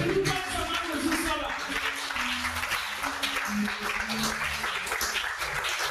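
Church congregation clapping and cheering in praise during a worship service, a sustained dense wash of applause and voices with a preacher talking over it throughout.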